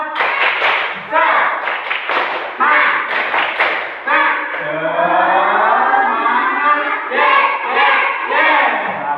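Schoolchildren performing a rhythmic spirit clap, a group of young voices chanting in time with sharp bursts of claps, loud and close, followed by a long sustained shout together.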